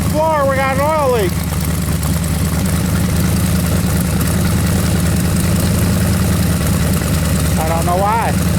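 A Camaro with a 383 engine idles with a loud, steady, deep rumble that fills the whole stretch, and a voice speaks briefly over it at the start and again at the end.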